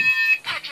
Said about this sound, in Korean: 여기 보시면 여기 연기감지기예요.